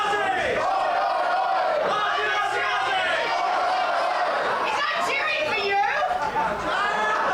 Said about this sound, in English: I believe they are cheering for Jessie McKay.